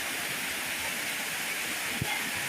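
Daranak waterfalls in Tanay, Rizal, flowing strongly after rain: a steady, broad rushing roar of falling water, even and unbroken, heard from a moderate distance with one brief low thump.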